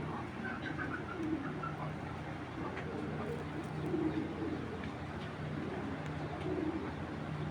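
Giribaz tournament pigeons, an original old-breed flying strain, coo in low repeated purrs. A steady rumble of background noise runs underneath, and the coos come and go in soft clusters throughout.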